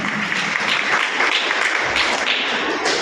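A crowd claps steadily at a karate black belt ceremony at IIT Bombay, dense continuous applause filling the whole moment with no break.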